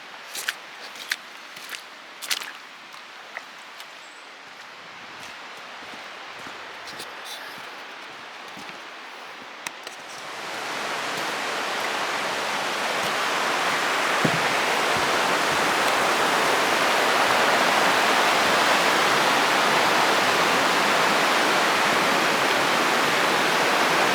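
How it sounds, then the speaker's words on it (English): Waterfall and river near Marymere Falls in Olympic National Park, with footsteps and rustling on the trail at first, then a loud, steady rush of falling water that swells and holds close by. "the water's getting pretty loud. There's a river over here and another little fall back that way."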